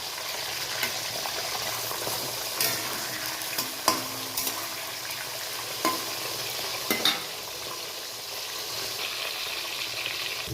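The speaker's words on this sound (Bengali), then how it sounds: "এরকম চাপা দিয়ে মাছটাকে ভাজতে হবে" Hybrid magur catfish fries in a pan, pressed down as it cooks, with a soft continuous sizzle broken by sharp pops and spatters at irregular moments, heard alone without voices.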